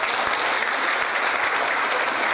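Audience at a Korean community gathering in Atlanta clapping after a speech, dense sustained applause from a crowd, steady and fairly loud for the whole stretch.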